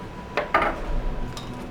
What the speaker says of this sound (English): in this bowl, we're going to chop our cookies.